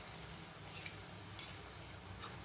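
Coriander vadi shallow-frying in hot oil in a pan, a soft, steady sizzle with a couple of faint clinks, quiet and continuous with no voices.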